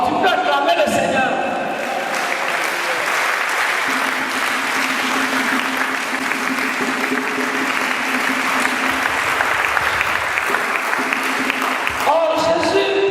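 A church congregation applauds the Lord in steady, sustained clapping that fills the room for about eleven seconds, with voices and some singing or talk mixed in before and after.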